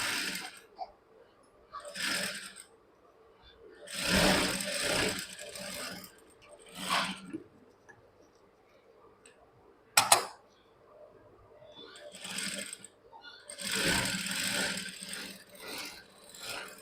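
A sewing machine runs in short bursts while a folded blouse patti is stitched, each whirring, rattling run of stitches separated by pauses, with a sharp click partway through.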